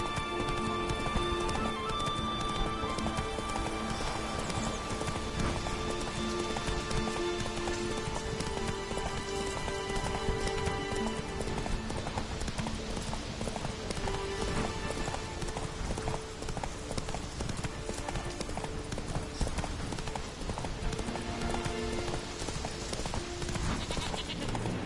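Hooves clip-clop steadily as the horse Roach gallops in the video game The Witcher 3: Wild Hunt, a continuous rhythmic beat under game music and ambient noise, fairly quiet overall.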